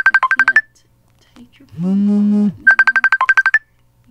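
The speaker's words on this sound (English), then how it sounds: "I can't take your phone call." A phone's ringtone repeats in two bursts of rapid electronic pulses, with a sustained buzzing tone between them, loud and clear with no talk over it.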